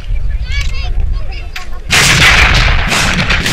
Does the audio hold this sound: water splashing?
no